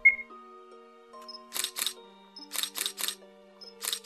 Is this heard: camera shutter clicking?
yes